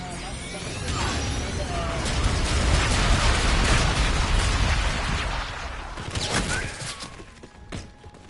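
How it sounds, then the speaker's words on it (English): Enemy bombardment in Call of Duty: a loud, dense barrage of explosions and crashing debris rumbling continuously, easing off briefly before another burst near the end. "Enemy bombardment incoming"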